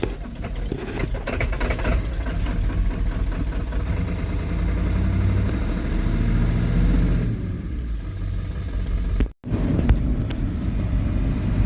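A car engine runs steadily and loudly right after a new fuel filter is fitted, a continuous close rumble with one brief cut near the end before it carries on.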